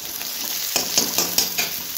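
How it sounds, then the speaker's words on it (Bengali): Browning onions sizzle steadily in a pan while a utensil stirs them, giving a series of rhythmic scraping sweeps over the continuous frying hiss. "এখানে দেখো পেঁয়াজটা ভাজা হয়ে গেছে, বুঝতে পারছো ব্রাউন কালার হয়ে গেছে"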